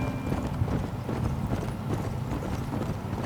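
A horse's hooves clip-clop in the video game Red Dead Redemption, a steady brisk run of close, loud hoofbeats throughout with no talking.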